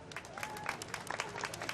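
Audience applause for the winners of a pageant at the Swainsboro Pinetree Festival: a short burst of steady, dense clapping from a crowd, heard alone at moderate distance.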